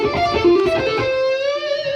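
A clean electric guitar plays a short string-skipping run of melodic notes in sequence, the last note ringing out and sustaining to the end.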